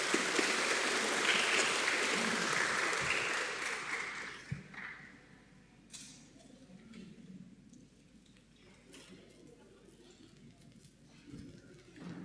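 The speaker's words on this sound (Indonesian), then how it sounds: "Silakan, kasih tepuk tangan dulu dong biar semangat." A congregation claps at a Sunday evening service in a Toraja church, with loud, dense applause for about four seconds before it fades into quieter room noise and scattered sounds.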